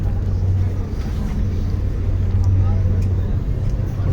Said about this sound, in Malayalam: പസഫിക് സമുദ്രത്തിൽ കൂടെ അതിവേഗത്തിൽ നല്ല സ്പീഡിലാണ് ഈ ഫെറി പൊയ്ക്കൊണ്ടിരിക്കുന്നത്.